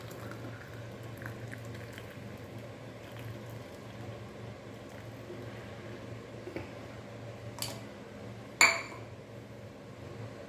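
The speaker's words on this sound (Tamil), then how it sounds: "அது கொதிக்கட்டும்" Water for lemongrass tea bubbles and simmers steadily at a low level, with a couple of faint clinks of glass or metal toward the end.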